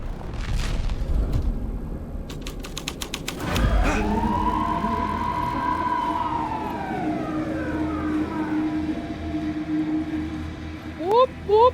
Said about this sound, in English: Whoop whoop! It's the sound of the police.